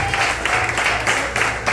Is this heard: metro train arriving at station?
no